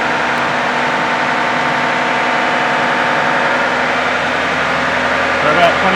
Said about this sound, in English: These tyres are really loud